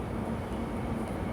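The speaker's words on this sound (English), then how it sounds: "Hold up, train." A train passes with a steady low rumble and roar that holds at an even level throughout, with no clear voices over it.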